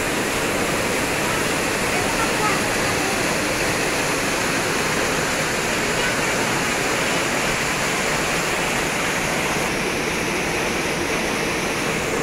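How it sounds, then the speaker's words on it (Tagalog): Several waterfalls pour along Ma Dai Stream in Hong Kong, a steady, loud, broadband roar of falling water filling the whole scene without pause. "Ang dami-dami pong waterfalls dito"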